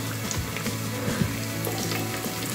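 Onions fry in hot oil inside a pressure cooker for khichuri, a steady close sizzle with occasional faint stirring scrapes and no talk.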